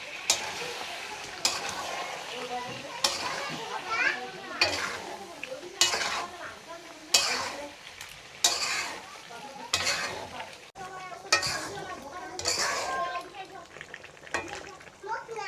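Chicken and potatoes frying in a pot for a Bengali curry, with hot water poured in over repeated stirring and clinking of a spoon against the pan, set against a steady sizzle.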